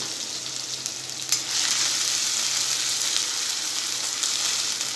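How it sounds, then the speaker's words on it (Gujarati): Chopped onions sizzle and fry in hot oil in a wok over a high gas flame for veg Manchurian. A loud, steady hiss jumps up as they go in and then holds without talk. "હવે એમાં આપણે કાંદા જે રાખેલા એ એડ કરી દઈશું આપણે આ બધા શાકભાજી ફાસ્ટ ગેસ પર જ ચડાવવાના છે"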